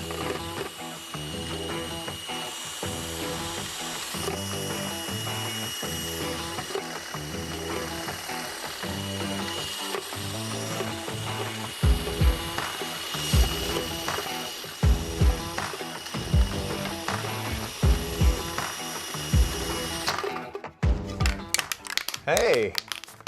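Drill spinning a homemade spray can shaker, a continuous mechanical whir with a rapid rattling of the mixing ball inside an old spray can, loud and close, with sharper clattering knocks in the second half before stopping.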